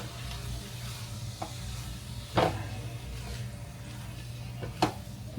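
Chorizo, potatoes and eggs being stirred with a spatula in a frying pan: a steady soft sizzle with a few sharp scraping strokes of the spatula against the pan, close and unaccompanied by talk.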